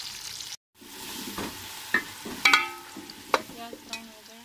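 Chopped onion frying in a pan toward brown: a quiet sizzle after a short silent gap, punctuated by a few sharp spoon scrapes and metallic clinks against the pan, close and with no speech.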